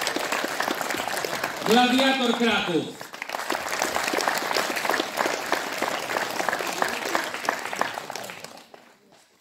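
An audience applauds steadily at the opening ceremony of the Małopolska wrestling league in Poland, with sustained clapping throughout while an announcer speaks over a PA with a loud, echoing voice that fades toward the end.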